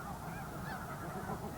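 Geese honk faintly in a wild Arctic colony on Wrangel Island, a soft, distant stretch of calls blended into a steady background wash.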